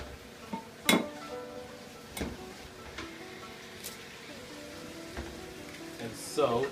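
Eggs cracked one after another against a bowl rim while preparing chicken fried rice, sharp isolated clicks spaced seconds apart over faint kitchen background noise.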